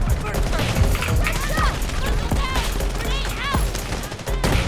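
Rapid gunfire bursts crackle through a tense Delta Force firefight, repeated shots layered over dense in-game noise and scattered voices.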